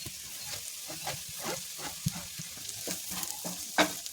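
Onions and chili masala powder frying in a pan for an Ooty mirchi curry, a bright continuous sizzle with rhythmic stirring scrapes and a couple of sharper clinks, close and fairly loud, no speech.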